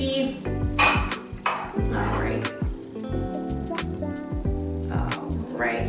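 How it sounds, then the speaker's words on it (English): Sticky oat and nut butter mixture stirred in a bowl for energy balls, giving wet scraping and clinking of a spoon against the bowl with irregular thumps, close and fairly loud over background music. "So we're going to stir this up really good."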